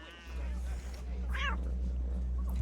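A cat in the video game Assassin's Creed Rogue gives one short rising meow over a steady low in-game hum, with a voice speaking faintly in the background.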